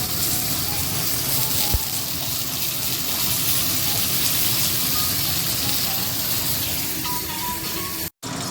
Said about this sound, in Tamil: இப்போ நான் சின்ன சீரகம் மஞ்சள் கொஞ்சம் கருவேப்பிலையும் போட போகிறேன் போட்டுட்டு கொஞ்சம் வதங்க விட போகிறேன்